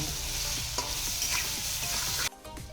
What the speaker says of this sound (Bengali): এবার এই আলুর সঙ্গে পেঁয়াজটাকে বেশ ভালো করে ভাজব